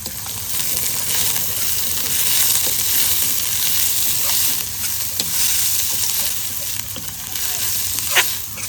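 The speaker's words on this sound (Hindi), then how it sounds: "और फिर इसमें डाल देते हैं कटा हुआ प्याज।" Chopped onion frying in hot oil with garlic-ginger paste gives a steady, close, broadband sizzle with scattered sharp crackles and pops, no voices.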